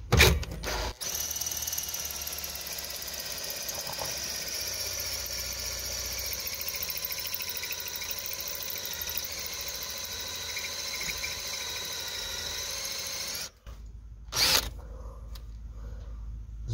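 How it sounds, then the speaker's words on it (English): A power drill with a bit getting chewed up bores steadily through the floor of a 1964 Serro Scotty Sportsman camper, a loud sustained whine with squealing overtones running for about thirteen seconds, cutting out briefly, then a short final burst. "This drill's getting chewed up though."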